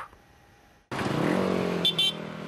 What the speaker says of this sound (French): Casque sur la tête et moteur vrombissant, les amateurs de grosses cylindrées ont pris la route pour soutenir la lutte contre le cancer du sein.